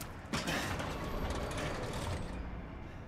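Elevator machinery in Resident Evil Village runs with a grinding, rattling mechanical hum. A clunk starts it, and then a steady churning of gears and ratchets continues at moderate loudness, with no voices.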